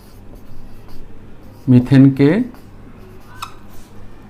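Marker or chalk scratches across a classroom board as the chemical formula for methane is written, with a short cluster of louder squeaky strokes in the middle of otherwise quiet room tone.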